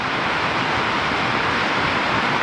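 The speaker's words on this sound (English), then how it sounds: "but it is pouring rain out" Heavy rain pours steadily outside with a dense, constant wash of noise and no breaks or voices.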